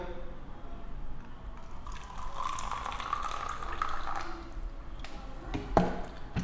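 Boiling water, about 40 ml, poured into a small porcelain cup for a hot Vietnamese bạc xỉu coffee, a soft steady trickle and fill sound over several seconds ending with a few light drips and clinks.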